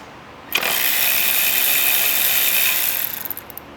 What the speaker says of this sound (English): So we'll have a 10mm socket.